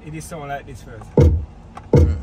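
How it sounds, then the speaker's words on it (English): A car door lock actuator clunks twice, two loud, heavy mechanical thumps about a second apart, heard close up after someone speaks briefly inside the car. "You hear it sound like when you lock the door."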